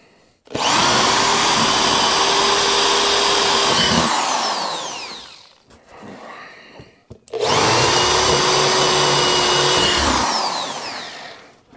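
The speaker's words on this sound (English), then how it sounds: "Just drill 3 of these" A power drill bores holes into wood for a rustic wooden water wheel, two long loud whining runs with the motor spinning up and winding down, separated by a short pause of quieter handling noise.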